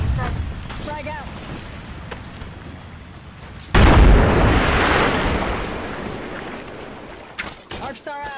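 A frag grenade detonates in Apex Legends, a sudden loud booming blast that rumbles and slowly fades over several seconds, with game voices speaking before and after.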